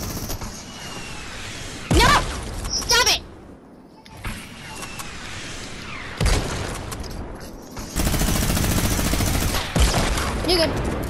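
Rapid automatic gunfire from a minigun in the Fortnite Chapter 2 Season 2 video game, loud bursts of dense sustained firing among other game effects, with players talking over it.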